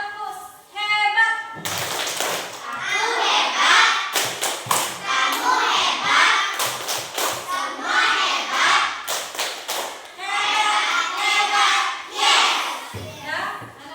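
Schoolchildren in a classroom do the 'tepuk hebat' clapping chant, rapid group claps in patterned bursts interleaved with their chanted words, filling the room loudly.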